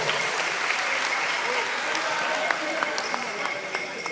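Steady applause from a contest audience after team scores are read at a live gas challenge quiz, dense clapping filling the whole stretch at even loudness with a few sharper claps standing out.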